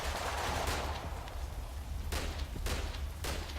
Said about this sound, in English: Now they're shooting at you.